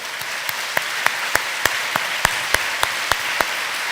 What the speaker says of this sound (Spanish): Démosle un fuerte aplauso a Jesús